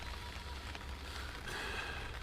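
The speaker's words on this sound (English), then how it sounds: "Raining as well." Rain patters steadily on a camping tent at night, a dense, even hiss of drops on fabric with a low rumble beneath.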